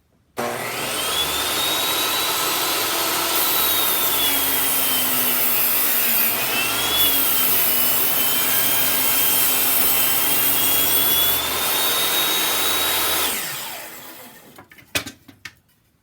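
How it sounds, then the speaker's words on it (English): A long, steady saw stroke rasps loud and close through wood blocks being cut into 9-inch pieces, running unbroken for about thirteen seconds before stopping, followed by a few clunks. "I'm going to cut these blocks into 9-inch pieces"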